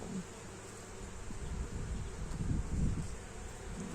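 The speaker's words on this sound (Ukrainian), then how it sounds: "Багато бджоли." Honeybees swarm thickly around an opened hive as frames are handled, their steady, dense buzzing filling the air and swelling slightly toward the end, with no voices.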